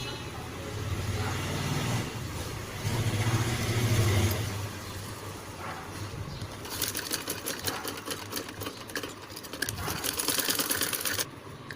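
Sewing machine running steadily while stitching an Anarkali lehenga with lace trim, a fairly quiet mechanical whir that turns into a rapid, rattling chatter toward the end.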